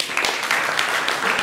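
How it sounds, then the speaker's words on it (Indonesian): An audience at a wayang and gamelan performance evening at a pesantren gives a short burst of applause, brisk scattered clapping that lasts only a moment. "Tepuk tangan dulu."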